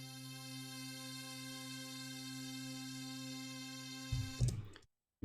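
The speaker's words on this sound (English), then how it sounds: "Part 2 is going to use a different sample for the pad" Another synth pad sample in Ableton, a steady held chord that runs for about four seconds before breaking into a noisy burst and cutting off.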